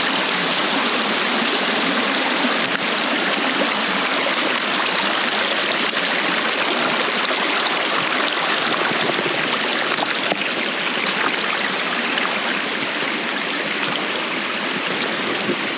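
Steady, loud rushing of a river stream while walking through the water on a snowy winter day in the Peak District, a continuous broadband wash with no speech.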